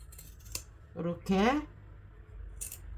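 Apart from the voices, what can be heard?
scissors snipping notches into fabric seam allowance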